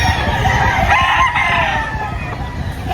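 A rooster crows amid the bustle of a busy chicken market in Lipa, Batangas, its call rising over a dense background of other fowl clucking and steady crowd noise.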